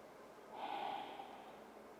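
Quiet breathing during a forward fold stretch, a single soft breathy exhale swelling briefly and fading, faint and close with no talking.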